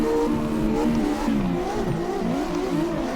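A drifting video game race car engine whines and revs continuously during an online drift race, its pitch sliding up and down through gear changes, loud and steady throughout.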